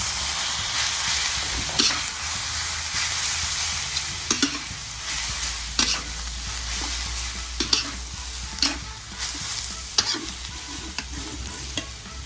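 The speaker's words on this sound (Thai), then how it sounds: "ตามด้วยเส้นมาม่าที่ลวกไว้ลงผัดนะครับ" Blanched Mama instant noodles stir-fried in a hot pan, a steady sizzle and fry broken by repeated sharp scrapes and clacks of a spatula against the pan every second or two, close and fairly loud with no talk.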